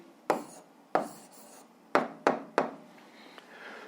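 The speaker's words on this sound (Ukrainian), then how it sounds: "Записуємо відповідь." Pen strokes on paper while writing out the answer to a 7th-grade physics exercise, five short sharp scratching taps in uneven rhythm, close and fairly quiet, with no talk.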